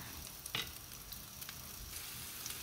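Onion sizzles in a hot pan, a close, steady frying hiss with a few brief stirring clicks and scrapes on top.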